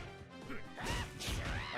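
Shining Knuckle super from King of Fighters XV landing in a tournament match, a sharp smashing impact followed by heavy crashing hits and whooshing effects, loud and layered with faint crowd and commentary noise behind.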